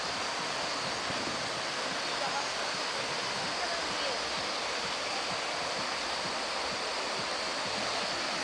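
A waterfall roars as a steady, close, full wash of rushing water with no pauses, spread evenly across the whole stretch and heard alone without any talk.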